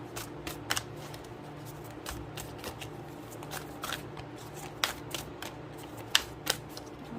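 A deck of cards is shuffled by hand at close range, a run of quick soft riffles and snapping clicks in uneven bursts over a faint hum, with no talk.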